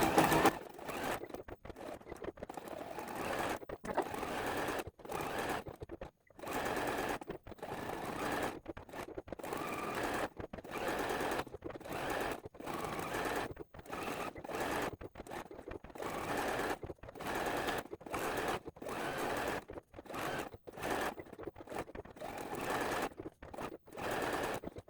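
A sewing machine stitches quilt appliqué in a rapid, steady whirring chatter, running in long bursts broken by brief pauses as the fabric is lifted and turned.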